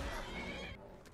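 In The Elder Scrolls Online video game, a horse gives one short, faint neigh, a quick whinny heard on its own in the game's audio.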